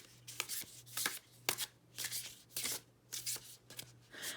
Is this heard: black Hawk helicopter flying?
no